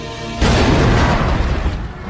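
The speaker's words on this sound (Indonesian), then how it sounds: "sebentar lagi bom akan meledak" A bomb detonates at an enemy headquarters with a sudden, loud, close blast that rumbles on and fades slowly over the next couple of seconds.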